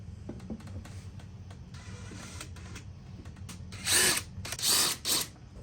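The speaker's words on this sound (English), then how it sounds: "Now we're going to bore the hole in the wood a little bit for a pilot hole." A power drill bores a pilot hole in wood, two short whirring bursts near the end over a quiet workshop background.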